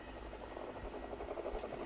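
A helicopter's rotor whirs in a steady, faint drone, with soft rhythmic chopping and no speech, in the Roblox game Mad City.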